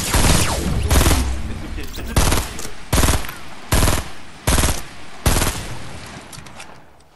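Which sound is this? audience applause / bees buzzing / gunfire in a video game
gunfire in a video game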